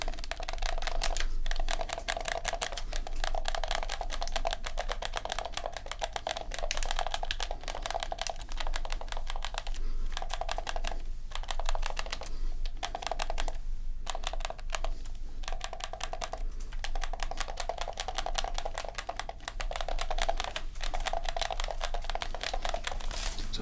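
Game controller joystick buttons pressed rapidly in a close-up setting, a dense stream of small plastic clicks and taps, steady and quiet with a few short breaks, no talking.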